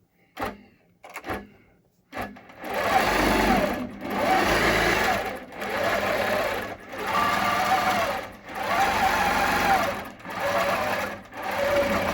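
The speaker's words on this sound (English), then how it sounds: "we can have the machine stitch this out" An embroidery machine stitches a baseline design in long, loud, steady runs of rapid mechanical whirring separated by brief pauses, preceded by a few clicks and knocks at the start.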